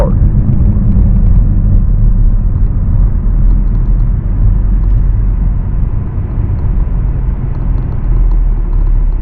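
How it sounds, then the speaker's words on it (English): Cars on a road on a quiet Sunday during the 2020 shelter-in-place period, a loud, continuous low rumble of vehicle noise that dips briefly midway and then returns. "there's not a lot of traffic today"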